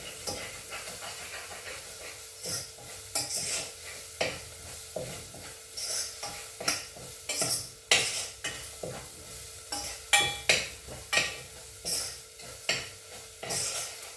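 Garlic and ginger sautéing in hot oil, with a steady soft sizzle and repeated close scraping strokes of a spoon against the pan at an uneven rhythm.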